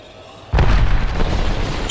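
An Arc Star grenade detonates in Apex Legends, a sudden close burst followed by a sustained crackling electric rumble that lasts to the end.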